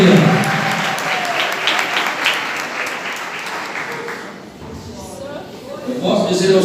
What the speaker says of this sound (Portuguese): Palmas com glória a Deus.